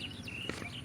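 A bird calls in a border village near Cox's Bazar, with thin high chirps and whistles at moderate distance over a soft outdoor background.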